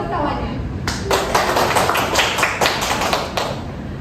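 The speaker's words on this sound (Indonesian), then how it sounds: "kasih tepuk tangan untuk kawannya" Students in a biology classroom clap in applause for a classmate, a burst of dense, close hand claps that runs steadily for several seconds.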